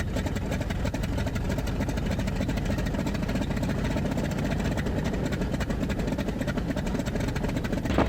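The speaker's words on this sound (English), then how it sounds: "And we are taxiing to take off in a T-28." A T-28 warbird's piston engine runs steadily as the aircraft taxis toward takeoff, a loud, unbroken drone with a fast prop-like flutter lasting throughout, no voices over it.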